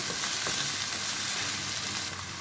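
Sliced sausage frying in a little oil for an Egyptian macaroni tagine, a continuous close hissing sizzle broken by a few soft stirring scrapes.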